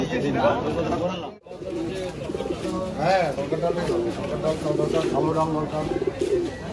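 Madras pigeons coo and flutter among caged birds at a pet market in Kolkata, their soft repeated coos mixing with busy crowd chatter while someone talks nearby.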